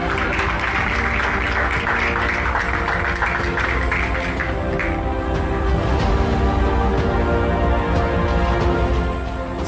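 An audience applauds a host during a live broadcast, with dense, loud clapping that holds steady for about ten seconds before fading near the end.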